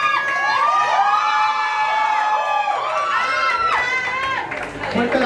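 Audience at a school singing-contest grand final cheers and shouts for the third-place finisher, a dense, loud crowd roar with high whoops and children's yells rising and falling throughout.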